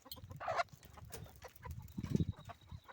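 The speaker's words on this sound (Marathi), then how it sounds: "ही आहे सोनेरी कोंबडी आणि ही हुशार कोंबडी आहे सोनेरी कोंबडी आहे गावरानी कोंबडी आहे" Native village hens of mixed breeds, golden and black birds among them, cluck in a farmyard, with a sharp burst early on and a louder cluck near the end over a steady low murmur of the flock close by.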